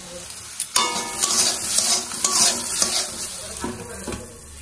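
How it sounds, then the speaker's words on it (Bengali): Vegetables fry in a covered-then-opened pan while being stirred, giving a steady bright sizzle with repeated scraping strokes of a spatula against the metal, close and alone without talk. "ঢাকাটা খুলে সবজিগুলো ভাজা হচ্ছে"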